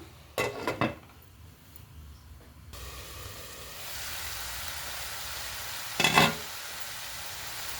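Leafy greens curry with green and dried red chillies sizzling in a pan, a steady frying hiss with a couple of brief clattering bursts of utensils against the pan.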